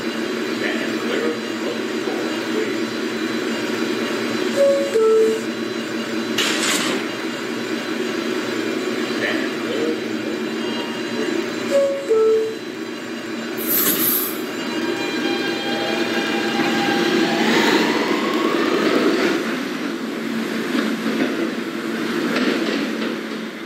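A Queens-bound express subway train at Whitehall St–South Ferry station: a continuous loud rumble of rolling cars with steady motor whine, brief squeals and tonal chirps, and a rising brake squeal near the end.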